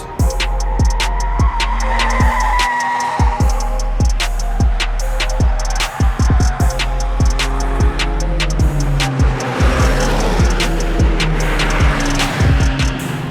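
A Skoda Fabia vRS hot hatchback revs hard and keeps accelerating on a race track, loud and close, with gear changes and rumbling road noise throughout.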